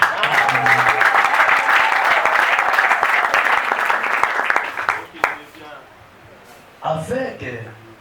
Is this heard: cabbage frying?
no